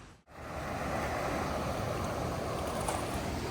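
Floodwater pours over a dam spillway in a steady, broad roar of rushing water that starts abruptly after a brief dip and holds constant, close and loud, with wind buffeting the microphone.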